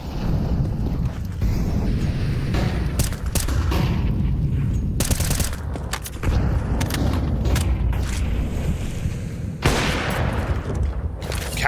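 MAC-10 submachine gun fire in Counter-Strike on the Mirage map: dense, rapid bursts of loud gunfire and impacts crowd the whole stretch, broken only by brief lulls.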